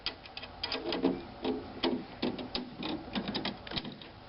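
A drum key turning the tension rods on a drum head, giving a close, fast series of small ratcheting clicks and ticks in an uneven rhythm, with no voices.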